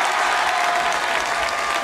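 A crowd applauds a woman at the end of an evening tournament event, a full, continuous roar of clapping hands that stays even and loud from start to finish.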